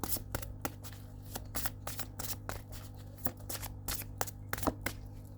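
A deck of oracle cards shuffled by hand, a steady run of quick crisp riffling snaps close by, repeating for several seconds with no talking.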